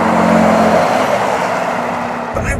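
A 2017 Ford F-150 Raptor pickup accelerating, its engine note piped into the cabin as a steady, fairly loud drone that eases off near the end.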